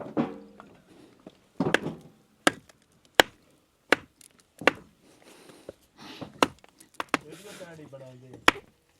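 Hard limestone rock is struck repeatedly in attempts to break it, sharp isolated knocks spaced irregularly around someone talking.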